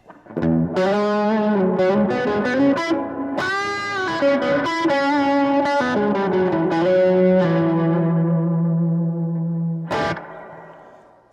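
A distorted electric guitar through an Orange Tiny Terror amp plays sustained chords and notes, washed in heavy reverb and chorus, with a brief pause before a final strum.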